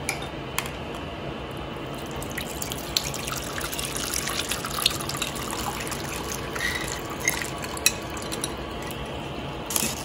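Spiced pani puri water, mixed with red chilies and salt, being strained in a kitchen: a steady liquid trickle and pour with scattered metallic clinks of utensils, close and continuous throughout.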